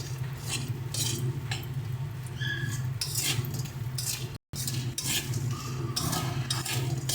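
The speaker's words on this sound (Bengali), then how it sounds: "বড়িগুলো হালকা একটু ভেজে লাল লাল করে তুলে দিচ্ছি" Lentil dumplings (bori) frying in a pan until reddish, with a continuous low sizzle under repeated spatula stirs and light metallic clinks nearby, no voices.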